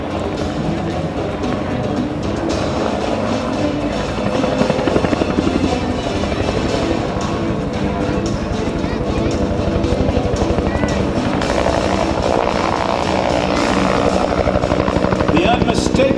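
A Vietnam-era helicopter at an air show battle reenactment, its rotor thwacking loud and close in a continuous rapid beat over a droning engine, with a narrator speaking over it.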